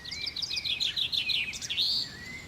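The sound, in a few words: small birds singing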